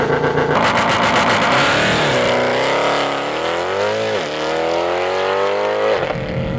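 A Mercedes C63 AMG launches in race start mode, its engine roaring loud and close as revs climb through gear changes, the pitch rising, dropping briefly, then rising again.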